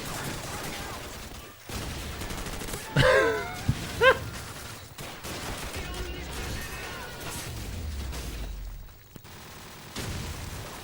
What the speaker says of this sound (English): There's a lot of bullets flying